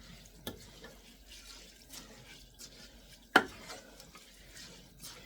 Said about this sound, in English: I'm going to get some more water in this and just get the rest of those little bits out.